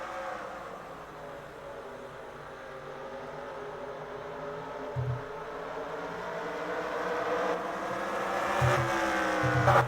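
Race cars at North Wilkesboro in a racing video game, a steady droning pack of engines that slowly rises in pitch and loudness as they accelerate, with a couple of brief thumps near the end.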